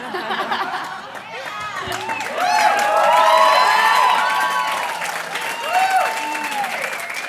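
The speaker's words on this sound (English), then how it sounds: "by audience applause" A television dating-show studio audience applauds and cheers loudly, with whoops and excited shouts rising over the clapping and then easing slightly.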